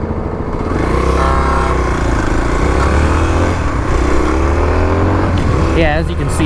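A Kawasaki KLX351 dirt bike with stock exhaust and a big-bore kit drones steadily at close range, its engine note wavering through shifts in pitch and holding loud from start to finish.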